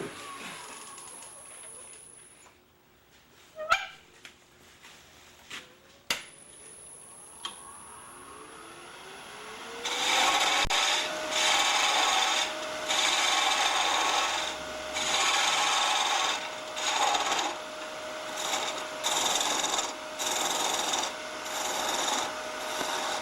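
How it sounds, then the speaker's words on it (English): Steady rasping of sandpaper against wood spinning on a lathe, rising in loud pulsing strokes after a quieter stretch of clicks and faint chirps. "We'll do a little bit of sanding."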